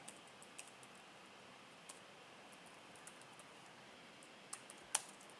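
Keys on a computer keyboard tapping out a dashboard title, a faint, sparse run of light clicks ending in a few sharper, louder keystrokes near the close, with no voices.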